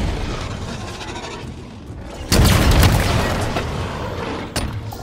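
A rocket explodes in Halo Infinite with a sudden loud boom that decays over a couple of seconds, followed by a sharper, smaller blast amid ongoing combat noise.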